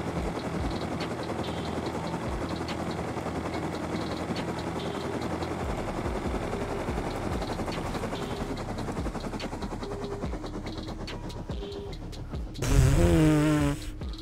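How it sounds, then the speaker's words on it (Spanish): A helicopter in the survival game Rust flies with a steady, dense rotor-and-engine drone that holds for most of the span, then a sudden louder warbling burst near the end before it settles. "Estoy en un helicóptero"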